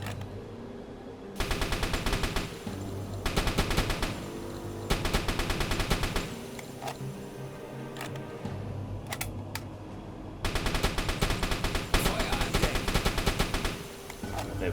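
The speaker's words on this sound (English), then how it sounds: "Just short bursts into the hull of the ship. Try and put a few more holes in." In the submarine video game UBOAT, a deck gun fires short bursts at a ship's hull: loud, rapid volleys of several seconds each, broken by quieter pauses.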